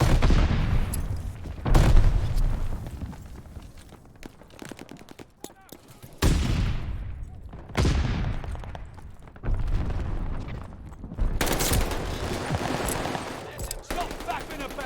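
Grenade explosions boom and gunfire rattles in Call of Duty Vanguard, several loud blasts spaced a couple of seconds apart with decaying rumbles between them and bursts of rapid fire, voices shouting faintly amid the noise.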